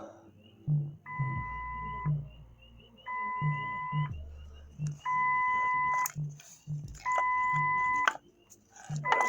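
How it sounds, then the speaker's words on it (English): Repeated electronic beeping from a car that is not getting power to the starter, long steady two-tone pulses about once every two seconds, with low mechanical clicking and some voices underneath. "it's starting to beep"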